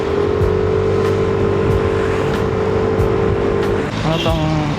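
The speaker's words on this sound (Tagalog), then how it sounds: "May traffic na naman sa Mamati." Heavy traffic on a busy road in Mamati, San Isidro, a steady loud roar of engines and tyres with vehicles passing close by and a faint horn-like tone near the end.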